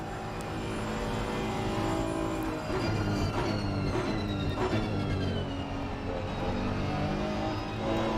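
Race car engine on the Imola circuit in a sim racing game, a steady loud drone that rises in pitch through upshifts and accelerates hard under throttle, with a brief dip in the middle of the run.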